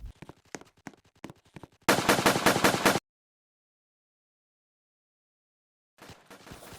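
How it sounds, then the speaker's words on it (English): A Thompson submachine gun fires a loud, continuous fully automatic burst in a Roblox trench warfare game. A few scattered shots come before it, then the sound cuts to silence and other gunfire returns faintly. "The Thompson is a very close range, usually offensive, fully automatic weapon."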